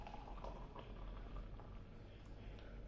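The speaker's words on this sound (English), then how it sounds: "So the kettle has just boiled." Electric kettle boiling water for tea in a kitchen, a steady rumbling, bubbling hiss with no pauses, moderately quiet and close, alone with no talking.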